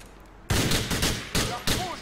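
In the video game Grand Theft Auto 4, four or five loud, punchy gunshots go off in quick succession over a low background ambience. The shots are close and sharp.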